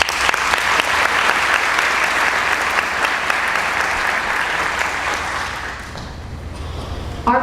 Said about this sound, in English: Now I'd like for you to join me again with a warm hand of applause for our County Commissioner, Karen Key.